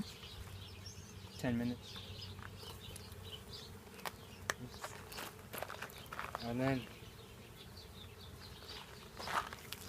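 Honey bees buzz around hive frames during a honey harvest, a faint, continuous droning with a few louder passes near the listener. Footsteps and people talking can be heard over it.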